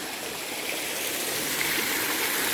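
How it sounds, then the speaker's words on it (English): Steady, broadband rushing of a waterfall in a ravine, constant and fairly close, with no voices. "And there's a waterfall here."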